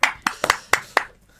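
A handful of scattered hand claps for Carme, about five sharp, close claps spread over a second and a half, thinning out at the end rather than building into full applause.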